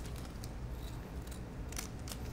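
Scissors snip open an instant noodle sauce packet with a few short, faint cuts against a quiet room background.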